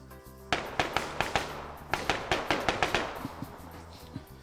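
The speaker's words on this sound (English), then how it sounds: "Still hearing some gunshots." Distant gunshots in a Cherno 2020 OFCRA PvP match, sharp irregular cracks and pops arriving in a loose burst, some close together, others spaced, each with a short echoing tail.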